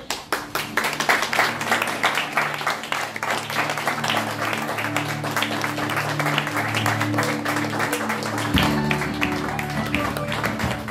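Lively, sustained applause greets the flag at a school ceremony in Argentina, with dense clapping from a crowd continuing steadily for several seconds and a low hum beneath it.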